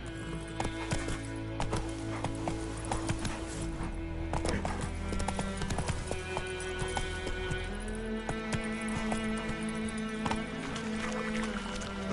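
Roach, a horse in a video game, gallops with steady rapid clip-clop hoofbeats and an occasional whinny, layered over continuous game music and ambience throughout.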